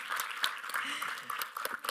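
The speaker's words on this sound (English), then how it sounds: "so can we have a round of applause for him?" Audience applause for a birthday at a film trailer and music launch event, a broad crowd clapping that stays dense and steady throughout, with voices mixed in.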